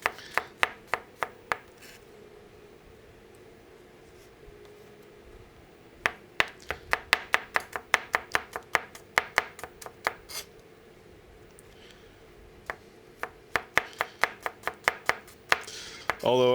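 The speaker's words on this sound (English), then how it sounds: "the big downside of chopping garlic down like this" Garlic chopped by knife on a cutting board while cooking chile verde burritos, two bursts of rapid, crisp blade taps close up, with a quiet pause between them.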